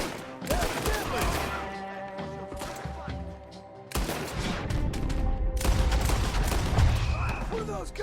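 Bursts of gunfire in Red Dead Redemption 2, rapid cracks and thuds blending into a loud, busy clamor with a short lull midway before the shooting swells again.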